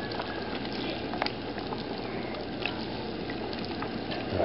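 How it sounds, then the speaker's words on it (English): Pulled pork sauce boils down in a pan to reduce, giving a steady, dense bubbling and hissing with occasional soft pops and no talking. "Just kind of boil it down and get some of that extra liquid out of it."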